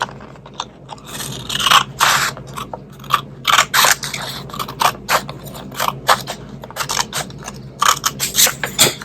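Scissors snipping through paper pieces folded in half for a craft eye, a steady run of close, crisp cutting strokes and scraping blade sounds with no talking.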